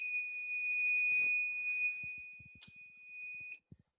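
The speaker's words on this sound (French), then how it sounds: "un buzzer qui s'allume pour tout simplement informer les passagers qu'ils sont trop nombreux" A steady high-pitched electronic buzzer on a model elevator project sounds continuously to warn of passenger overload, with faint knocks and taps beneath it before it cuts off.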